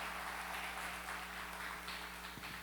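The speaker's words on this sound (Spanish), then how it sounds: "Un aplauso, por favor, a este equipo increíble" Audience applause for a team at a Spanish-language church talk, a soft, steady wash of many hands clapping at a distance under a constant low hum, with no voices.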